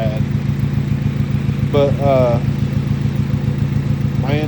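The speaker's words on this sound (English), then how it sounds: "When I got it running, I think I still got a clip of it, but it sounded like a tractor." A Honda Civic engine runs rough, chugging like a tractor with a steady, loud, pulsing low rhythm throughout, while someone speaks briefly over it.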